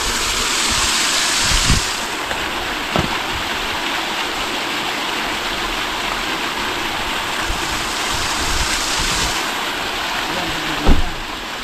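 Floodwater runs through the inside of a house in a steady rushing, stream-like wash, with a few sharp knocks and thumps breaking through near the end.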